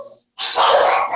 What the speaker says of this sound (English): Sorry, the dogs are going crazy.